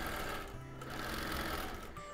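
A sewing machine running steadily while free motion quilting a wholecloth quilt: a continuous, fairly quiet mechanical whir and hum with no breaks.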